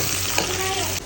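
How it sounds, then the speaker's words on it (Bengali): Onions hit hot oil in a pan with a sudden steady sizzle, close and fairly loud, with a faint tonal hum underneath and no talk. "তেল গরম হয়ে গেছে, এখন পেঁয়াজ দিয়ে দিচ্ছি"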